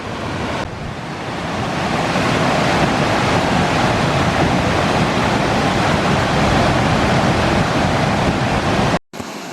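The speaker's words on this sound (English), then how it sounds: "These are the rapids just before the chute." River rapids just before a chute, a loud, constant roaring rush of churning water heard up close, steady throughout with no talking.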